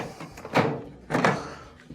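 Two solid thumps come from the door of an LG dryer being shut during a repair, each a short, close impact with a brief decay, about two-thirds of a second apart.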